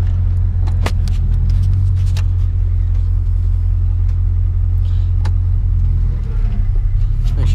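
A project truck drives in four-wheel drive with locking hubs, its engine rumbling loud and steady from up close, sharp knocks and rattles breaking through now and then.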